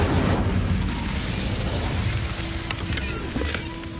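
Incendio fire spell cast in the Hogwarts Legacy video game, a sustained roaring whoosh of flame that starts loud and full, then thins slightly with faint crackles and a low steady tone underneath.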